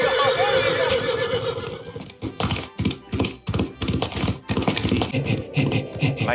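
A horse in a homemade Zelda Breath of the Wild–style video game lets out a loud whinny, followed by a rhythmic series of hard clip-clop hoof taps close up.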